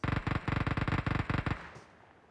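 Automatic gunfire in the PUBG Mobile video game, several rapid bursts of close, loud shots in quick rhythm that stop abruptly and leave a short fading tail.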